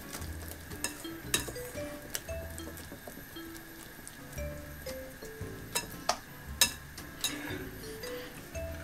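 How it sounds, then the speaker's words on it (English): A utensil stirs Spanish tortilla mixture in a pan, making soft scraping and occasional clinks against the metal over a faint sizzle, close and steady with intermittent sharper knocks. "I'm just going to give that a stir"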